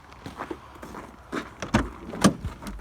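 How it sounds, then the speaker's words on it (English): An old car being unlocked and its boot opened: a handful of separate clicks and clunks of lock and latch, close and fairly quiet, with soft handling noises between them. "Unlock the old car"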